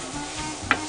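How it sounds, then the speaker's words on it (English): Onions, cumin, chili powder and garlic toasting dry in a pot, with a steady sizzling hiss and one brief scrape of stirring near the end. "Still toasting those spices."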